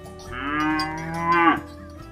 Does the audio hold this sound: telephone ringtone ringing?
no